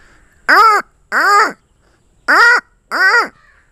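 A man imitates the call of a black mountain crow, giving four loud, harsh caws close up in two pairs separated by a short silence.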